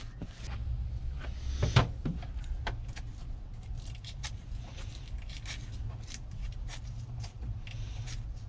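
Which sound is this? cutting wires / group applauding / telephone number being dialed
cutting wires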